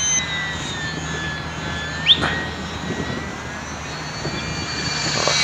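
An SBACH 342 radio-controlled model airplane flies in calm air. Its steady engine whine drones on throughout, shifting in pitch as it passes, with a brief sharp rise partway through.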